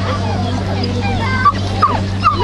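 A dog gripping an object and refusing to release it at a Hungarian dog-sport festival demonstration gives short whimpers and yips over steady background hum and crowd murmur, with a few sharper cries standing out.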